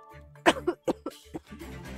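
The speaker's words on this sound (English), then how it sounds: "And I've been coughing." A gaming streamer coughs a few times in quick bursts, short throaty expulsions close to the microphone separated by brief gaps, with a low steady background hum.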